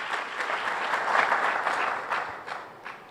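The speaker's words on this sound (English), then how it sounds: "can we have a round of applause before the Finance Minister answers the question?" A round of applause from the audience at a GST conclave before the Finance Minister speaks, a dense and moderately loud clapping that swells in the middle and tapers off toward the end.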